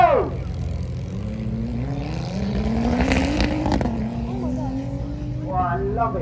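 A McLaren P1 hypercar launches and accelerates hard at a supercar event, its engine note climbing steadily as it pulls away, with a crowd and an announcer speaking over it.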